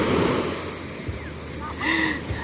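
Ocean waves wash onto a beach late in the afternoon, a steady broad surf roar with gusts of wind on the microphone. Voices chatter faintly beneath the rush of water.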